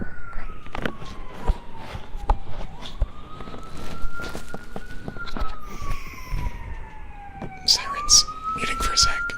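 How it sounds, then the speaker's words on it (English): Police sirens wail from outside, a rising and falling tone that sweeps continuously behind faint, close whispering and small clicks. "Sirens, muting for a sec."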